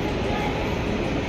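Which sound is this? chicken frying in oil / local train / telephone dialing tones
local train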